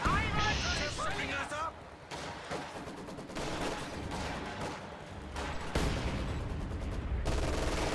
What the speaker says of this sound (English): Mortar bombarding this general area.